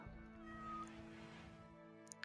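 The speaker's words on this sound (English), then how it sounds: "I heard the cat, and I thought it was my cat." Faint cat meowing in the video game Rimworld, a soft drawn-out mew over a steady humming game background, with a couple of tiny clicks near the end.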